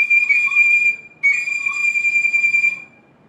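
Chinese bamboo flute playing a high, bright sustained tone with a rapid, bleating goat-like tremble in the chevrotter style, two long phrases separated by a short break, clear and alone.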